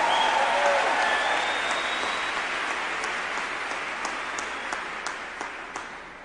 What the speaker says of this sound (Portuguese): me dá um sorriso gostoso e uma salva de palmas para Jesus